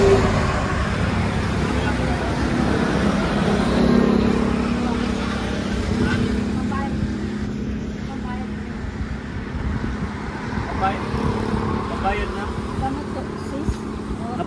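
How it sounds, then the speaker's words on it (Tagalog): Steady roadway noise of passing cars and other vehicles fills the whole stretch, with people talking over it throughout. "ang iingay kasi ng mga sasakyan"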